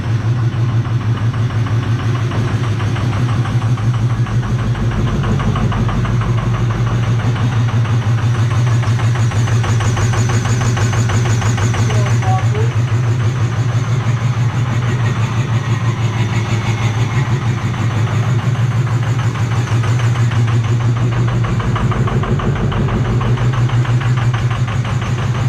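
A 2005 Ford 6.0 Powerstroke diesel V8 fitted with a 6.4 starter cranks and fires, then settles into a loud, steady, close-up clattering idle that runs without a break and with no talk over it.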